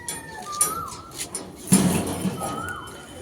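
Male pigeons in a loft giving soft cooing calls, a few low burbling coos near the listener with light rustling and a brief flutter midway.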